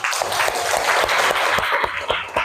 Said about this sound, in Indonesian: Tepuk tangan untuk Denis.